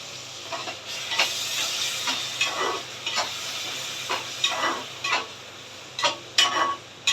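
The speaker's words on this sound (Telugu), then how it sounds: "ఆ పేస్ట్ కూడా ఇందులో వేసేస్తున్నాను ఈసారి. ఇది కూడా కొంచెం ఫ్రై అవ్వాలి." Onion and tomato paste frying in a pan alongside fish, with a steady sizzle and hiss and occasional stirring scrapes that come in short louder bursts, close up and alone without any voice.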